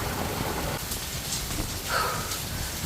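Heavy rain driven by strong wind during a typhoon, a dense, steady wash of noise that never lets up, with a few brief gusts swelling over it and no one talking.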